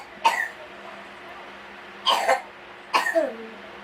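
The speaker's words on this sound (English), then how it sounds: "Excuse my daughter coughing." A young girl coughing indoors, three separate short hacking coughs spaced a second or so apart, fairly close and clear against a quiet room, with no talk.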